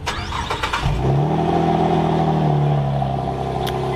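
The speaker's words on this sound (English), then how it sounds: "That exhaust sounds beautiful." Car engine started by remote start, a quick series of cranking pulses for about a second followed by the engine catching and settling into a steady, throaty exhaust idle, close and loud.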